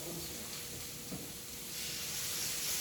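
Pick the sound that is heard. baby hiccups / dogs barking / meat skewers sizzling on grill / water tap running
meat skewers sizzling on grill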